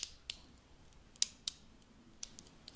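Scissors snip through a strip of duct tape while a light switch plate is covered, giving sharp, crisp cuts at an uneven pace, several close together and then a few spaced apart, with no voices.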